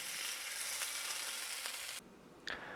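Kimchi pancake batter fries in a pan over medium-low heat with a close, even sizzle for about two seconds. The sizzle then drops off abruptly and a short clatter follows.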